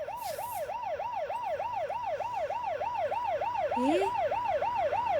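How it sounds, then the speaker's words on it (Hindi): An ambulance siren wails in a steady, rapid rising-and-falling cycle, loud and continuous throughout, with a brief extra tone sliding upward near the end. "एम्बुलेंस एम्बुलेंस काय को रे?"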